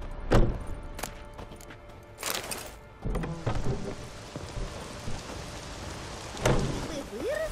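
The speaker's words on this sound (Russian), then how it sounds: "Ох, дождик!" Rain patters steadily in The Witcher 3: Wild Hunt, with occasional heavier bursts and thumps, a few short vocal exclamations in Russian breaking through the downpour.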